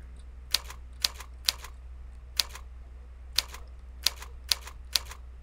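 Sparse keystrokes on a computer keyboard, about nine sharp separate clicks spaced irregularly over a quiet low hum, practiced as touch typing.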